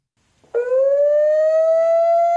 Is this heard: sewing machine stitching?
no